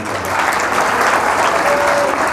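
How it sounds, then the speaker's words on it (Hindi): Audience at a career counselling session claps in a dense, steady burst of applause that holds at full loudness for a couple of seconds. "तालियाँ एक बार और बजाइए।"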